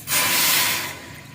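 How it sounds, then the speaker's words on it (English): A cup of water is poured into a hot cooking pot holding dry fish for Liberian pepper soup, a short loud hissing sizzle that swells quickly and fades within about a second. "I'm going to be adding a cup of water to it."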